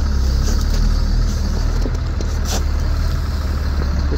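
A truck engine runs steadily at close range on a farm while hauling hay and culverts, a loud, constant low rumble with rattling overtones and no speech.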